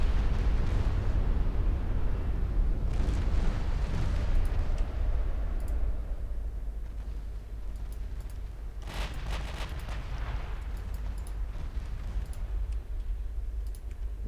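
A torpedo strikes a warship's torpedo belt in Ultimate Admiral Dreadnoughts, a heavy rumbling blast that fades into a steady roar of naval battle noise, with further muffled impacts and crackles later on and no talking.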